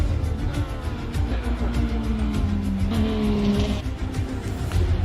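Porsche 911 RSR race car in a racing sim on the 1966 Monza road course, a loud, close engine note holding steady and then rising in pitch through a corner, with brief tyre squeal.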